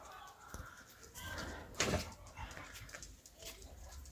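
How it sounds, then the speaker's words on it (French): Dogs on a riad terrace in Morocco, a short whimpering yelp in the middle and a few soft dog sounds around it, faint and fairly close against a quiet outdoor background. "Ici, les chiens."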